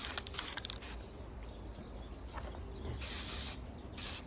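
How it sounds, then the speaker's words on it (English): Spray paint hisses onto baskets in short, close bursts, a long steady spray bracketed by quicker puffs, loud and alone. "I think I'm gonna spray these ones too,"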